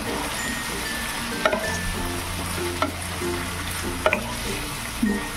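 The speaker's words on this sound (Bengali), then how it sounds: "এবার আমি ভালো করে মিশিয়ে নেব।" Chicken pieces being stirred in a hot frying pan with ground cumin and coriander, a continuous sizzle broken by a few sharp scrapes and clinks of a spoon against the metal pan.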